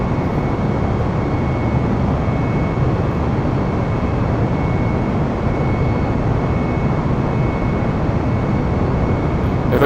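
Flight simulator game airplane engine droning at steady full power, a loud continuous broadband roar with a faint constant tone and no pauses or voices.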